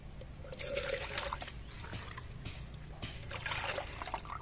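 Liquid fertilizer of mixed coconut and cow dung is poured into a pot for a Japanese rose, a faint trickling and splashing that rises and falls in a few short pours.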